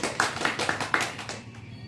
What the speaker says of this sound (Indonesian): Kita tepuk tangan dulu buat ibu.